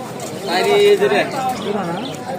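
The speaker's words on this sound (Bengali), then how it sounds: "কবুতর হাটে নানান ধরনের কবুতর এসেছে" Pigeons coo softly at the Kalampur pigeon market while people talk nearby, the low murmuring calls mixed under the voices.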